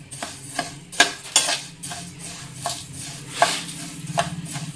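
Whole spices for sambar masala powder dry-roasting in a pan while being stirred, with intermittent scraping strokes and light rattling over a faint low hum, no voices.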